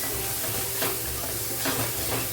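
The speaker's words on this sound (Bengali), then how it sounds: "এবারে ভালো করে মশলাটা কষিয়ে নিতে হবে" Garam masala and turmeric sizzle and fry in a pan, with steady stirring scrapes and a continuous hiss throughout; no voices are heard.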